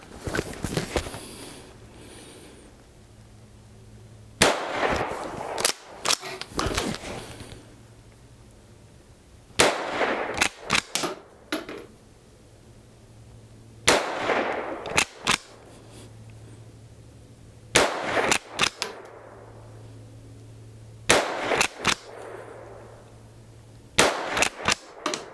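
A Rossi Gallery .22 WMR pump-action rifle fires several sharp, close shots in bursts of two or three, with quiet pauses between groups and faint background hum.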